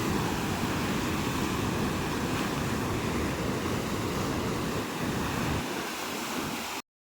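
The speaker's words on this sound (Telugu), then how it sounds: "నిజంగా వాటర్ ఎంత సైలెంట్గా ఉంటుందో అది వైలెంట్ అయినప్పుడు ఎంత భయంకరంగా సౌండ్స్ వస్తాయో" Water rushes with great force at the Jurala project dam, a steady, dense, loud roar that fills the whole clip without a break and then stops abruptly, with no voices.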